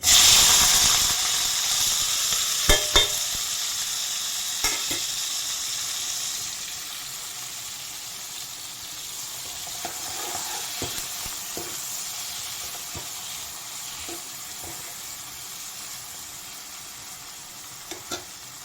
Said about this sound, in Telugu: సరిపడా ఆయిల్ వేసుకుని ఇందులో కట్ చేసుకున్న టమాటా ఉల్లిపాయ పచ్చిమిర్చి కరివేపాకు